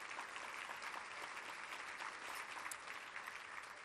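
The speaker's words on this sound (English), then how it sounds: "Give yourselves a round of applause." A round of applause from the audience at a conservation group's breakfast event, steady, even clapping that fills the room at a moderate distance throughout.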